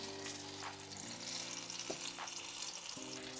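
Egg-battered chiles rellenos stuffed with cheese sizzle steadily in hot oil, a continuous close hiss with a low steady hum beneath it.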